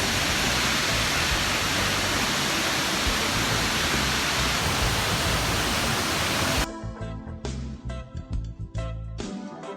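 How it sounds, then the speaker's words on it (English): A loud, steady roar of the Papakarito waterfall at Waikaremoana fills the air as constant broadband rushing, then cuts to a choppier, less dense wash near the end. "you might be able to hear a noise, roaring noise. That's the Papakarito waterfall"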